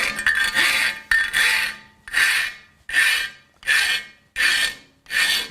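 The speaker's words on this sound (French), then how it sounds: "Donc je lime." A hand file rasps across a metal workpiece in seven even push strokes, each a loud, bright scrape separated by short pauses, close up and without any talking.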